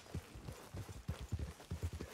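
Horse hooves clip-clopping in Red Dead Redemption 2, a steady run of quick, fairly close beats that keeps up its rhythm for the whole stretch, with no talking over it.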